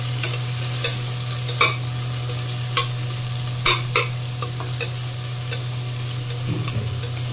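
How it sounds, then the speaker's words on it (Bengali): Onions fry in a pan in a home kitchen while a spoon stirs them, irregular scraping strokes cutting through a continuous sizzle over a steady low hum. "পেঁয়াজটা ভাজা চলছে।"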